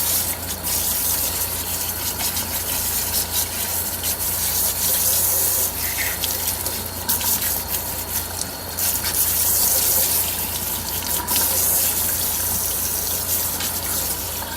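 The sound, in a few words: rinsing hair wefts under running water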